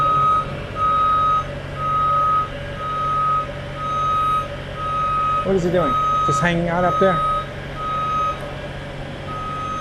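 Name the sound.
truck reversing beeps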